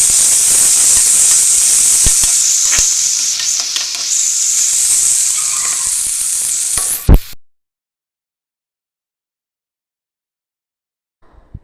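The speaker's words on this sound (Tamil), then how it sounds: "இப்போ இதில் நம்ம இஞ்சி பூண்டு பேஸ்ட் ஆட் பண்ணி தக்காளியும் ஆட் பண்ணி நல்லா வதக்கி விட்டுடலாம்" Onion with ginger garlic paste and tomato sizzling loudly in a pan, a steady hiss with occasional stirring scrapes for about seven seconds, then silence with a faint clatter at the end.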